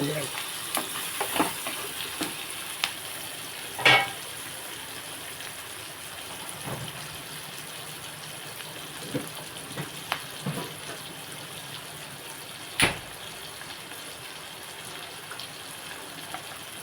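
Bottle gourd pieces cook in a pan with salt and turmeric, giving a soft, steady sizzle broken by a few sharp clinks and scrapes of a spoon stirring, with no voices.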